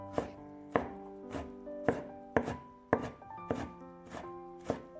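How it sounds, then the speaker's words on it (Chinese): A knife chops blanched, squeezed shredded radish on a cutting board, about nine steady, evenly spaced thuds with woody ringing, close and alone without speech. "放在案板上，用刀给它切碎"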